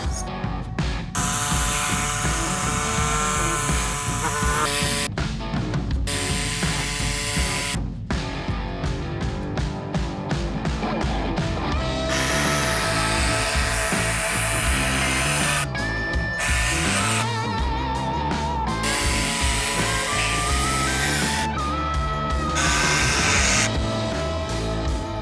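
A power tool cutting into a Chevy Colorado Z71 front bumper, a loud continuous whine that runs steadily with brief breaks where the pitch shifts, close to the work.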